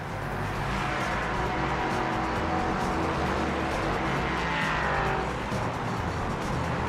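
LMP3 class race cars roar past in a racing video game, a loud continuous blend of engine drone and tire noise with a rising pass-by sweep near the end, no talking.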